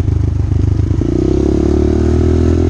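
Small motorcycle riding close by, its engine loud and continuous with a low buzzing drone that rises slightly in pitch partway through, with no talking.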